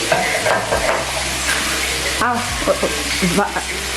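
Pasta and mince are stirred in a sizzling pan, with a close steady frying hiss and irregular scraping and utensil knocks; a voice is briefly heard in the background.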